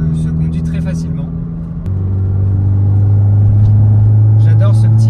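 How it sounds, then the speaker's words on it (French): A 1997 Fiat Cinquecento Sporting's small engine hums low, then its pitch steps up as it accelerates and settles into a steady, strong drone, with a voice speaking over it. "J'adore ce petit bruit. Le moteur, il répond immédiatement."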